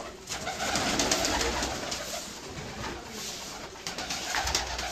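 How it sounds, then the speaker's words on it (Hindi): Breeder pigeons from a paired flock coo steadily and overlapping, with bird calls layered over a constant washy background; no one speaks. "ब्रीडर कबूतर ने जी"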